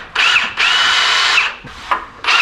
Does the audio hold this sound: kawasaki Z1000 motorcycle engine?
no